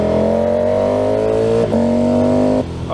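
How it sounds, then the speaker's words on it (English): A motorbike engine drones loudly and steadily up close, its pitch dipping briefly as it shifts before holding again. "Oh God, the noise of this bike,"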